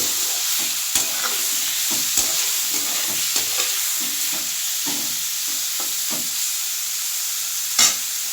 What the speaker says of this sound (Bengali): পেঁয়াজটা একটু হালকা করে ভেজে নিই